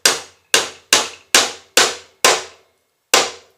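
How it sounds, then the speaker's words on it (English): Seven sharp, ringing hammer strikes drive a nail into a wooden beehive frame while it is wired, loud and close with short gaps, the last blow after a longer pause, no talking. "Hammer your nail down it"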